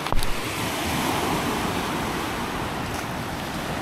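Sea waves wash steadily onto the shore at a campsite in Lian, Batangas, producing a continuous broad roar with some wind on the microphone and a brief knock near the start, with no speech.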